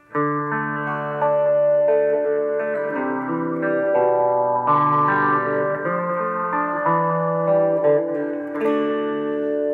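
An electric guitar plays a short effects-laden riff, notes sliding quickly in smooth hammer-on and pull-off legato runs, sustained and close.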